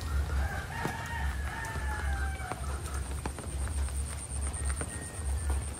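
A rooster crows on a farm after a typhoon, a drawn-out call heard at moderate distance over a low steady rumble, with other faint bird sounds and scattered clicks.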